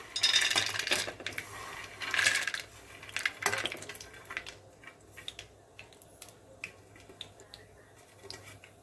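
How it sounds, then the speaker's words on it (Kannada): Peanuts tipped into a pan with a little oil for ridge gourd chutney make a few quiet clattering rattles early on, then faint scattered clicks over low background hiss. "ಕಡಲೆಬೀಜ ಹಾಕ್ಕೊಳ್ಳೋಣ."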